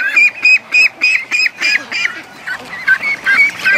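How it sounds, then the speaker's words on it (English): Several ducks and a goose-like honk sound inside a shed with Muscovy ducks, a run of loud, regular nasal quacks in quick bursts followed by more irregular calls, close by with no talking. "Oh, look at that duck!"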